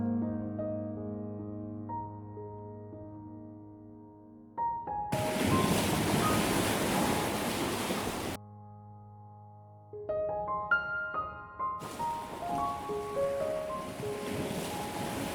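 Ocean waves and wind at sea, broad rushing surf and gusts swelling in two long bursts between stretches of sustained music.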